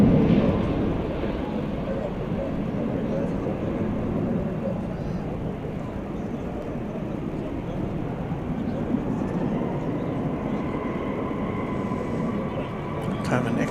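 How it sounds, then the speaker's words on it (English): A Boeing 737-800 in from Burbank touches down at Dallas-Fort Worth, a broad rumbling jet roar that lasts the whole stretch, with someone talking over it. "Kind of an extra dollop of tire smoke there from that 737-800 flight 12 Lot 8"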